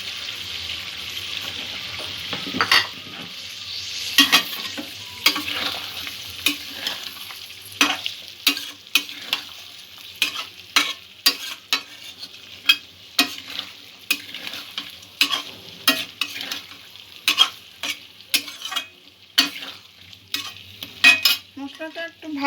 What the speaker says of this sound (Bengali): মশলাটা একটু ভালো করে কষে নেব।